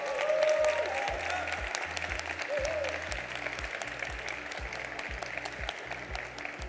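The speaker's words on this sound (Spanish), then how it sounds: "Un aplauso para Mireia." Sustained applause from a sizable audience at a talk on music and video games, steady and fairly loud throughout, with a low rhythmic musical pulse running underneath.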